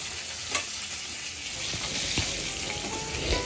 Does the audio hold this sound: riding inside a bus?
no